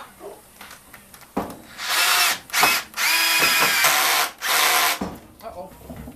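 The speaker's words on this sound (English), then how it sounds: "we're going to try to center this screw on this piece of wood" A power drill drives a screw into a piece of wood without pre-drilling, in several loud whirring bursts separated by short pauses, ending in softer handling noise.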